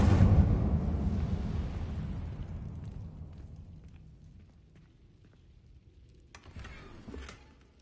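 An Incendio fire spell cast in the video game Hogwarts Legacy erupts with a loud, deep whoosh and boom that slowly fades into a low rumble, followed by a few faint crackles.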